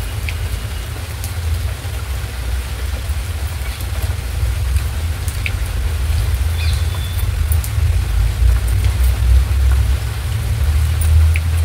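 Steady rain pours outdoors in a dense, even hiss of drops on surfaces, loud and continuous throughout with no voices.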